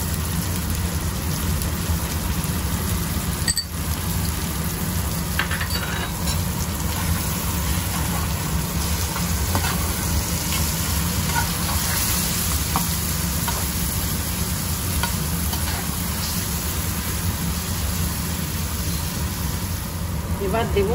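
Okra sizzles and fries in a pan with turmeric, amchur powder and salt, stirred steadily with loud continuous crackling throughout, a close, dense frying hiss.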